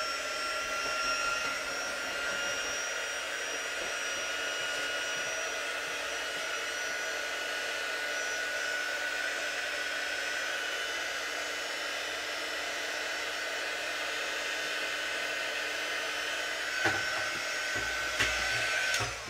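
A hair dryer blows steadily at close range, drying chalk paste on star cut-outs for home decor, a constant loud whoosh with a few brief clicks near the end.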